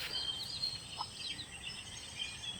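Native chicks peep softly while feeding, with short, high, repeated calls that stay faint and somewhat distant over a steady low background.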